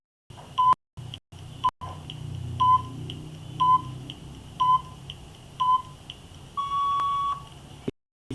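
A countdown timer during a quiz gives short electronic beeps at a steady one-per-second pace, ending in a longer, higher closing tone, with faint room hum between beeps.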